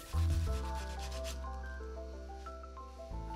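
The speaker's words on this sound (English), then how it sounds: "I rounded the other side as well and then sanded everything down so it would be nice and smooth." A wooden light stick handle is sanded smooth, a steady close rubbing drone that runs for a few seconds with a brief stroke change near the end.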